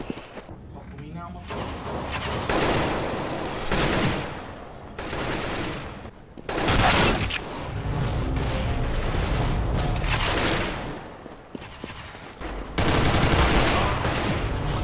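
Repeated bursts of gunfire and weapon noise from the video game CS:GO, loud and recurring in several clusters, mixed with other game sounds and a player's excited talking.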